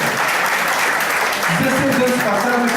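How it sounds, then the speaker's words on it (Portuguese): An audience claps throughout a lecture, a dense, steady wash of applause with a voice speaking over it partway through. "Pera, por favor, faz palmas."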